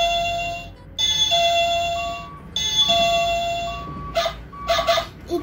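A doorbell chimes repeatedly in a short children's song, with sustained two-tone bell notes ringing in clear phrases separated by brief pauses, followed by quicker bright bursts near the end.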